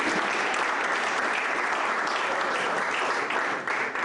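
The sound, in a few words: audience applause at an investiture ceremony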